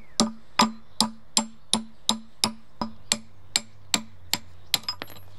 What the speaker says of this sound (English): The wheel hubs are held in place using a wedge-shaped cotter pin, which can be tapped out of position.